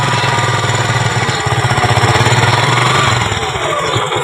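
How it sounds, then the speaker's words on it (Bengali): A second-hand motorcycle engine revs hard and steadily close by, its throttle raised for a few seconds in a rough, rapid, hammering drone that eases slightly toward the end. "তো পিকআপটা বাড়িয়ে আপনারা ইঞ্জিনের ভালোভাবে সাউন্ডটা টেস্ট করবেন"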